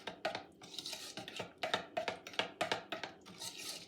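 Cake batter for a jam and coconut sponge being folded in a mixing bowl, with a steady run of close, soft scraping strokes and light clinks of the utensil against the bowl, about a dozen regular passes, no voices.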